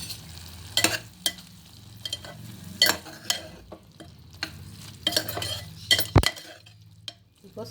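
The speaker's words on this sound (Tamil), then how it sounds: "நல்லா கலக்கி விட்டுருங்க" Snake gourd kootu stirred in a pan, with repeated scraping strokes and metal clinks from a spoon against the pan over a soft bubbling sizzle, close and fairly loud, one sharp knock near the end, no talking.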